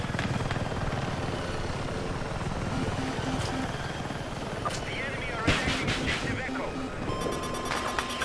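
A helicopter in the video game Battlefield gives a continuous loud rotor whir with engine drone, broken by sharp bursts of weapon fire and alarm beeps, while a voice talks over it.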